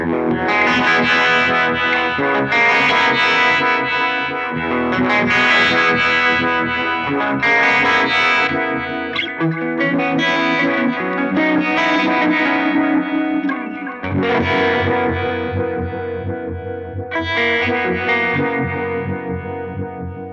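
A clean electric guitar through an HX Stomp, distortion off, plays sustained chords and notes with delay echoes trailing behind, giving a swirling, spacious wash that continues steadily.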